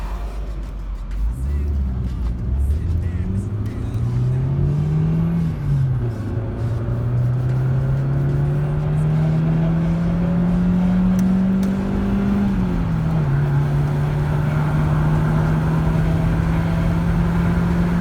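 Interior engine drone of a 1996 Opel Vectra 2.0 on the road, pitch climbing through gears as it accelerates, then holding a steady loud cruise hum, with faint talk underneath.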